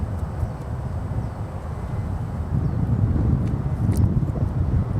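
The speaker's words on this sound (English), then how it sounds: "Love the sound of those GE90s" A United airliner with GE90 jet engines takes off from runway 28 left at San Francisco International Airport. Its deep, rumbling roar comes from a distance and swells louder, mixed with wind buffeting the microphone.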